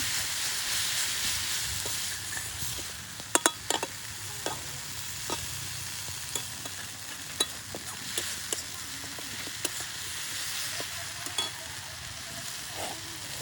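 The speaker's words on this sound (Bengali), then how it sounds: "এখানে সামান্য আমি জল দিয়ে জিরে গুঁড়োটা দিয়ে দিচ্ছি।" Cumin powder with a little water sizzling in a pan for jackfruit (echor) curry, a continuous hiss with scattered sharp spoon clicks and scrapes, close and steady, with nobody talking.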